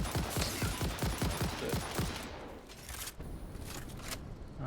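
Rapid bursts of automatic gunfire in the video game Satisfactory crackle in quick succession, then give way to distant booms and rumbling, moderately quiet overall.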